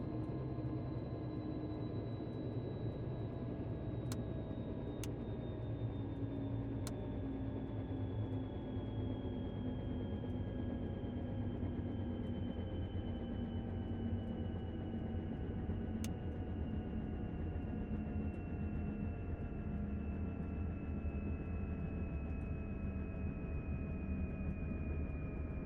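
Robinson R66 helicopter in Microsoft Flight Simulator spooling down after fuel cutoff, a steady turbine whine slowly falling in pitch over a low rumble, with a few faint clicks along the way.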